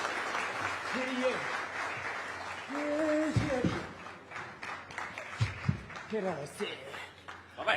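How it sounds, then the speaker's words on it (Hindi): An audience claps continuously, moderately loud, at a televised political talk show, while a voice speaks over the applause and a few chuckles come through. "वही तालियां रुकनी नहीं चाहिए मेरे ख्याल से"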